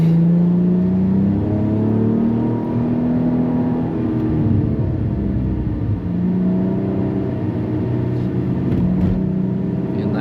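A Cadillac CT4-V Blackwing engine accelerates hard on the Nürburgring, its pitch climbing through the gears with brief dips at shifts, loud and steady throughout.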